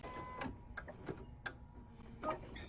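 A home embroidery machine stitching placement lines on tearaway stabilizer in a hoop, quiet and close, with irregular ticking clicks and brief mechanical whirs.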